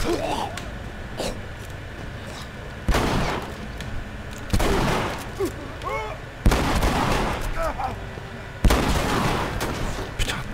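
Loud gunshots in The Last of Us Remastered, several sharp heavy blasts spaced a couple of seconds apart over a steady background of game ambience, with a voice talking between them.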